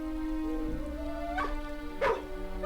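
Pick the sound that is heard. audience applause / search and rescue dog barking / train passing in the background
search and rescue dog barking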